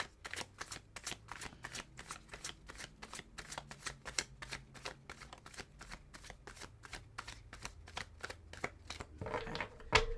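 Tarot cards being shuffled by hand, a long run of rapid, crisp riffling flutters in a steady rhythm, close and fairly quiet, with a slightly louder burst near the end.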